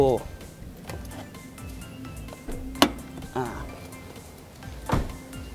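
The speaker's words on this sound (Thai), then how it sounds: "เดี๋ยวผมเปิดฝาท้ายให้ดู" A sedan's trunk lid is unlatched and opened, with a couple of crisp mechanical clicks and clunks over a quiet background while someone talks throughout.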